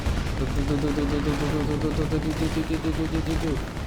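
Gunfire in the Lego Batman 2: DC Super Heroes video game, a steady barrage of shots under game music, with voices talking over it.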